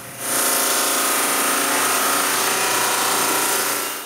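A drum sander grinding down a dark walnut glue-up, a loud continuous whirring roar that starts abruptly and holds steady at close range with no talk.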